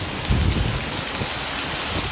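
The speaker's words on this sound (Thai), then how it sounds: "แต่เนี่ยฝนตกแต่เมื่อคืนเนี่ย เนี่ยตกมาเรื่อย ๆ ยัง ไม่หยุดเลย" Heavy rain pours down during a storm in northeastern Thailand, a dense, continuous hiss of drops hitting surfaces, loud and close with a brief low swell early on and no voices.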